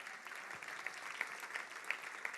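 A congregation claps in praise during a Spanish-language church sermon, a soft, distant patter of hands with a few sharper claps standing out.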